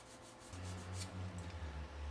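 A Bakelite kitchen utensil handle from 1958 is wet-sanded and polished by hand, making a soft, steady close rubbing that swells and fades in short strokes.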